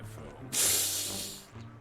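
A spray can in the video game Schoolboy Runaway lets out one bright, sustained hiss of about a second that tapers off, set against a quiet low in-game hum.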